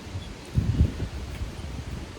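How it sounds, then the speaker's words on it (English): Low, rumbling wind buffets the microphone in uneven gusts, with a stronger burst partway through and faint rustling in the background. "It's very windy, so I apologize for any background noise because of that."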